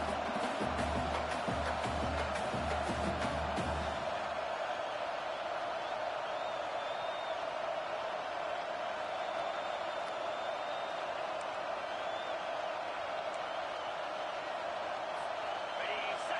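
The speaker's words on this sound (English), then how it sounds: "This crowd busting the decibel meter and trying to will a 4th down stop." Loud football stadium crowd in a Wisconsin vs Arizona State game, cheering on a fourth down defensive stand, a sustained roaring wash throughout with a brief burst of other sound at the start.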